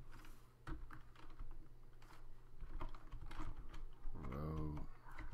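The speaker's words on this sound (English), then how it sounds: "I like typing row four, don't I?" Fingers tap on a computer keyboard with quick irregular clicks close by, while someone speaks briefly near the end.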